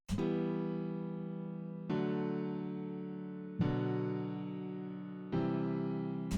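Four sustained piano triad chords struck one after another at an even pace, each ringing out and slowly fading before the next.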